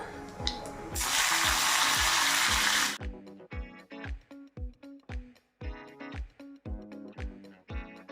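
Bitter gourd dropped into a hot pan, a burst of loud sizzling hiss for about two seconds that gives way to a run of sharp rhythmic knocks and clatters, close up.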